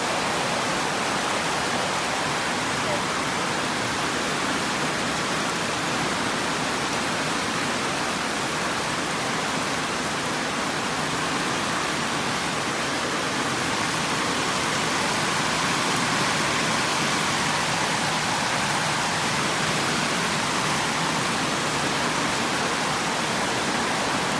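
Heavy, constant rain pours down in a dense, unbroken hiss that stays loud and even from start to finish.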